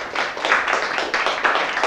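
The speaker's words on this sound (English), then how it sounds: "join me in a round of applause for our speaker" An audience applauds a speaker after a lecture, dense overlapping claps at steady strength throughout the short stretch.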